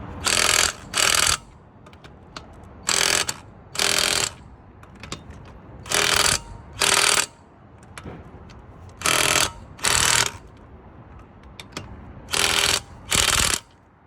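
Ratchet wrench tightens the wheel bolts on a Mercedes C230 during a brake pad job, loud close clicking bursts arriving in paired strokes with short pauses between each pair.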